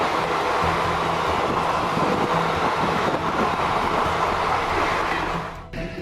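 A train rushes along railway tracks, a loud, close rumbling roar with rhythmic wheel clatter that holds steady and then drops away abruptly near the end.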